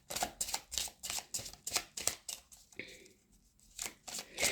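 A deck of angel cards is shuffled by hand in quick, crisp riffling bursts, close and clear, pausing briefly partway before the shuffling resumes; no one speaks.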